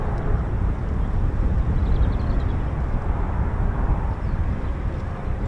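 A US Air Force Boeing KC-135 Stratotanker, a 1950s-era jet tanker, at RAF Mildenhall gives a continuous, broad jet roar that holds steady at a moderate distance throughout.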